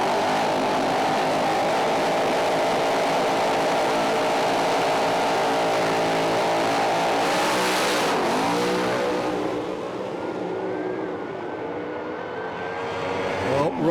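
A funny car drag racer roars through a qualifying run, a loud sustained engine blast that holds steady and then fades with a pitch drop as the car passes into the distance.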